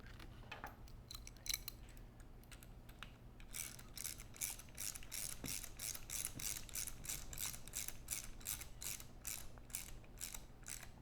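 A bolt is tightened into a leaky gearbox during a teardown repair, likely with a ratchet wrench, giving a long run of quick, evenly spaced metallic clicks after a few scattered handling sounds. The clicking is fairly close and moderately loud.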